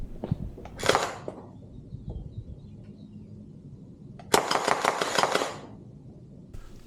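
A Veeniix V997 RC tank fires gel BBs in a garage, producing two bursts of rapid, sharp snapping shots close by: a short volley early, then a longer rattling string after a lull with faint mechanical clicks between.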